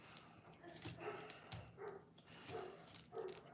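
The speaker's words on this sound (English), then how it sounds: "My dogs are going crazy." Several dogs bark in short repeated bursts at a kitchen home, fairly faint and somewhat distant, with a few whiny yips between barks.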